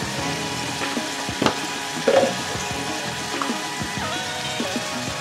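Chili powder fries in oil for a Bengali hilsa fish curry, giving a moderate steady sizzle with occasional pops and light stirring clatter and no voices.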